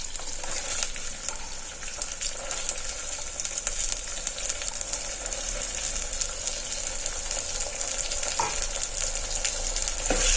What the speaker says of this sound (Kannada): ಇವಾಗ ಇದಕ್ಕೆ ಅವರೆಕಾಳನ್ನ ಸೇರಿಸ್ಕೊಂಡು ಫ್ರೈ ಮಾಡ್ಕೊಳ್ಳಿ.